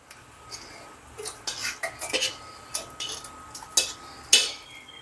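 Fried chicken biryani masala being scraped and spooned into a biryani pot, a series of irregular metallic clinks and scrapes of a spoon against cookware at close range, with quiet gaps between.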